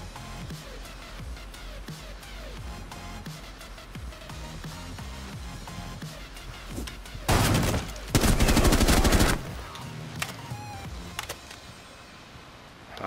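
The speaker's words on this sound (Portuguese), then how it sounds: "o cara deu um tiro de 12 no bagulho" Shotgun gunfire in the video game Rainbow Six Siege, a dense loud burst of shots and blasts near the middle, over quieter game sounds and clicks.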